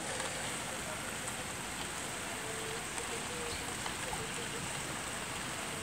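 A constant wash of falling rain during a thunderstorm with hail, an even broadband hiss with no pauses, steady and moderately loud.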